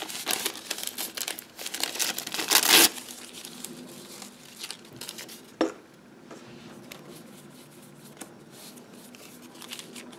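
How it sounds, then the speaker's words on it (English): Tissue paper crinkled and crumpled by hand for an art journal background, loud dense rustling in the first few seconds, then softer intermittent crinkles and a sharp crackle before quieter handling. "And I'm going to kind of fill the background with this tissue paper."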